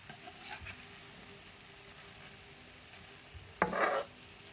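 Gulab jamun dough balls frying in oil over a medium flame, a low steady sizzle with a brief louder spatter burst near the end.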